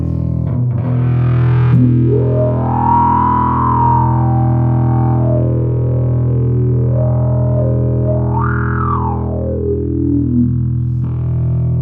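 An electric guitar with heavy distortion sustains a thick, droning note while the pitch sweeps up and down in long, wailing bends.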